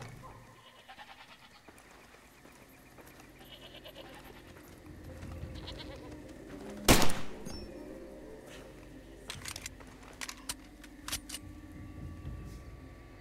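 A goat bleats in the Far Cry 2 video game, with one loud sharp burst midway through amid quieter game ambience and a few brief clicks.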